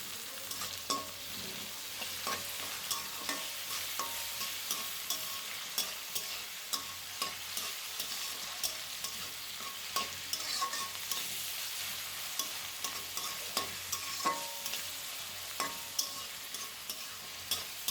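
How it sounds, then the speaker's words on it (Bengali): Chopped onion with green chillies frying in oil and being stirred, a steady close sizzle broken by regular scraping strokes of a spatula against the pan, with no voices. "পেঁয়াজ একটু ভেজে নিয়ে এর মধ্যে কাঁচামরিচ ও পেঁয়াজ কুলি দিয়ে দিলাম।"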